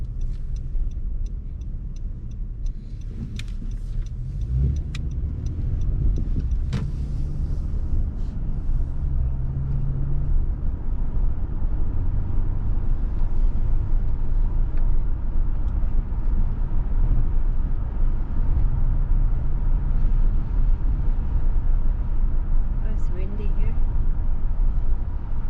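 A car drives on a road during a driving lesson, giving a steady low engine and road rumble throughout, with a few faint clicks early on.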